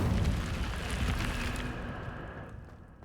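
The Incendio fire spell cast in Hogwarts Legacy: a short, fiery whoosh and burst that starts strong, then crackles and fades out over a few seconds, with no voices.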